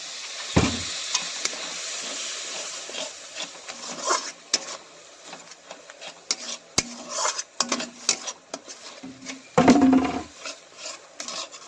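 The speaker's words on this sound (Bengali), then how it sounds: "ভেবেই নেবেন একটু জল দিচ্ছি লেগে যাচ্ছে" Water is poured into a pan of potato and patol curry that is sticking, with a spatula scraping and stirring against the metal, clattering irregularly up close and louder near the end.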